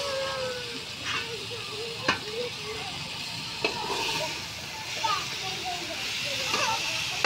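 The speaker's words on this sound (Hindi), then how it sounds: "अच्छी तरह भून लेंगे, बाद में इसमें हम दही डालेंगे।" Potatoes and eggplant sauté in a pan with a continuous sizzle and occasional stirring scrapes, while children's voices and chatter carry on in the background.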